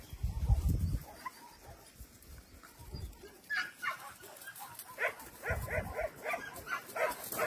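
Beagles at an animal shelter bark in scattered bursts with soft whimpers and yips between them, fairly close and loud, with the barking growing busier toward the end.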